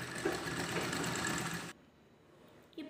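A sewing machine runs with a steady whirring, rattling drone while double-stitching folded baby diaper fabric, stopping abruptly after under two seconds, followed by a faint quiet pause and a small click.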